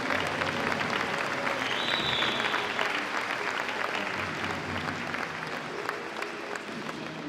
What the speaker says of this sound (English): Special round of applause for all of our four teams in the East Division.